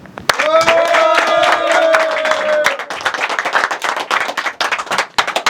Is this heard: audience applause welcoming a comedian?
yes